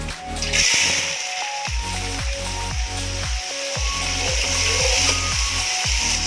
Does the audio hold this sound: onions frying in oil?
yes